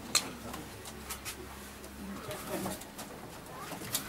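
Pigeons in a breeding loft coo softly and repeatedly, low throaty calls layered over light background noise and a few faint ticks.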